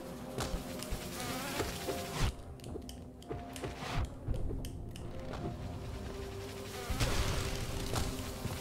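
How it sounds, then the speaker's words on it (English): Bees in the Hollow Knight hive zone around with high, wavering buzzes that swell and fade over a steady game soundscape, punctuated by a few sharp hits and whooshes; no voices. "there's a lot of bees to bounce off of here"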